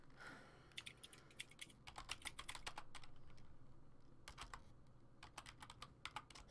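Rapid bursts of keystrokes on a computer keyboard clatter in uneven clusters, close and fairly quiet, with short pauses between runs and no talking.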